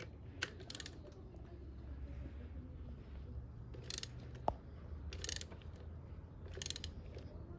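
A torque wrench tightens a bolt on a Mercedes CLS 55 AMG engine with several short bursts of rapid ratcheting clicks and one sharp tick, close by over a low steady hum.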